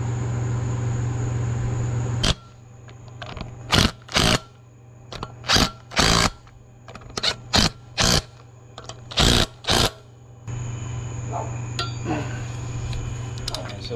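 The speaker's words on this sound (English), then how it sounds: "And then these get torqued to 75 foot-pounds." Flywheel bolts on a 1952 Ford 8N tractor torqued to spec with a wrench, about a dozen short sharp ratcheting bursts in an uneven rhythm, close and loud against a steady workshop hum.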